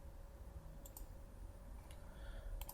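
A computer mouse clicks a few times while opening the Windows 10 Start menu, faint sharp clicks, single and in quick pairs, over low background hum.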